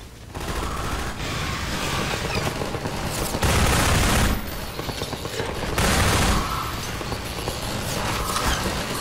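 Automated turrets in Half-Life 2 fire sustained bursts of rapid gunfire, loud and dense, with two heavier barrages standing out amid continuous shooting.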